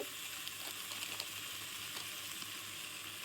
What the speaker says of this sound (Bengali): এই পিসটাকে কাটা একটু স্টির ফ্রাই হবে